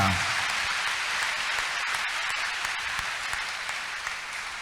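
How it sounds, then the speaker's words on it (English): A church congregation claps steadily during worship, a dense, even wash of applause with no one speaking over it. "Clap unto this God."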